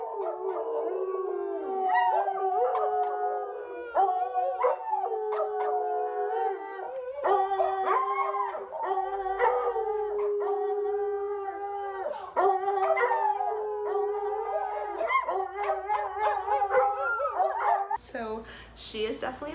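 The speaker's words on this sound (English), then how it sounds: "if one of them starts to howl, which is usually Blue" Several pet dogs, two big and two small, howl together in long wavering tones that rise and fall, with short yips and whimpers mixed in and a few voices heard faintly beneath.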